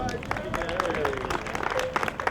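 Outdoor crowd clapping at a park ribbon-cutting ceremony in Hackensack, New Jersey, a brief scattered round of applause mixed with murmuring voices and a passing tonal whine.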